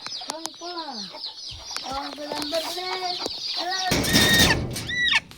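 Hens clucking and squawking in coops, a busy run of repeated close clucks and calls, with a louder burst of flapping or scuffling near the end.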